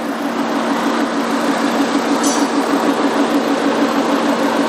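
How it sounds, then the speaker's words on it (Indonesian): A used car's engine idles steadily with the air conditioning and radiator fan motor running, a constant close hum with an even low drone throughout and no talk. "Sekarang AC hidup, motor fan hidup, Pak."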